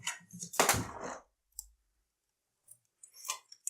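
A SATA power connector snaps onto a hard drive, giving a sharp close plastic click among brief handling rustles, with short quiet gaps between the taps.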